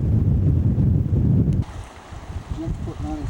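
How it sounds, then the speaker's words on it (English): Strong wind buffets the microphone by a lake on a Dubawnt River canoe expedition, a loud roaring gust for the first half, then dropping to a quieter rumble with faint bird-like chirps. "We haven't had trouble with wind yet, but it's fairly windy right now"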